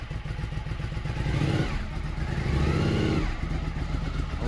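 A Suzuki SV1000 motorcycle engine idling loud and close, its steady rumble rising as the idle is raised, then easing back slightly, with no talking.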